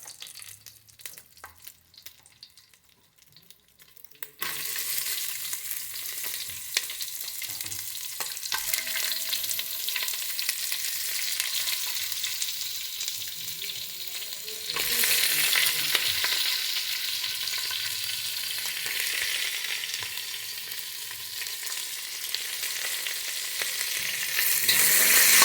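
Garlic, onion and spices frying and being stirred in hot oil for Kashmiri mutton biryani: a steady, close sizzle with scraping stir sounds that grows louder after a quiet start, with no talking.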